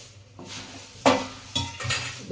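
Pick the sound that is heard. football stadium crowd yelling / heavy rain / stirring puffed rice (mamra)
stirring puffed rice (mamra)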